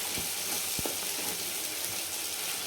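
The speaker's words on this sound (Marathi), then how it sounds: "याला पण हे थोडंसं अलीकडे तेलामध्ये परतून घ्यायचं आहे आपल्याला" Green chilli and ginger paste sautéing in hot oil gives a steady, loud, close sizzle with a couple of soft spoon knocks near the start.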